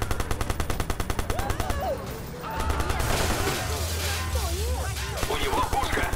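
Rapid bursts of automatic gunfire in Watch Dogs in a fast rhythmic rattle, with frantic shouting voices and some electronic game effects mixed in.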